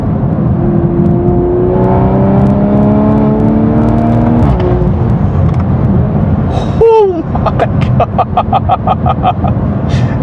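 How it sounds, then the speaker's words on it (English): A tuned Toyota A90 Supra with about 500 lb-ft of torque and a ZF transmission pulls hard through the gears. The engine note climbs steadily, breaks at a quick shift, then surges again, loud and close throughout. "Let's see, drop it a few more gears again."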